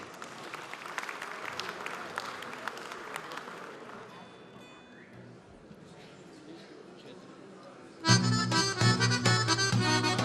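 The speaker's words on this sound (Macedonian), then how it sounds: "Да ги поздравиме со аплауз." Audience applauds a Macedonian folk group after a corn-husking custom performance at a republic revue of songs, music and dances; a steady wash of clapping that fades lower before loud folk music bursts in.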